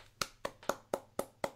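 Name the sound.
golf clap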